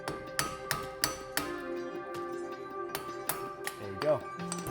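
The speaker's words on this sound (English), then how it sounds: "you just hit it with a hammer" A hammer strikes a car brake rotor on a 2012-2017 Hyundai Accent or Kia Rio, about seven sharp metallic clangs with ringing tones in an irregular rhythm, close, with a brief voice near the end.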